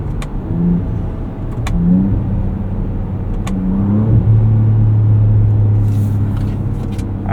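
A Ford Ranger Raptor with a Ford Performance tune accelerates hard in sport mode, its engine rising and falling through several loud revving pulls and gear changes, heard from inside the cabin over a steady low rumble.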